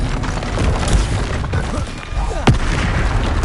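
Confringo blasting spell from the Hogwarts Legacy video game, heavy booming explosions with crackling bursts and a sharp blast near the end.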